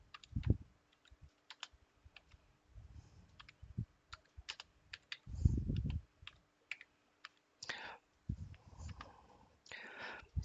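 Keys on a computer keyboard tapped to enter a SQL Server command on a Red Hat Enterprise Linux 7 system, with close, irregular clicks arriving in small clusters and scattered single strokes.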